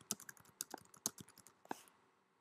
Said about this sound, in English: type in your question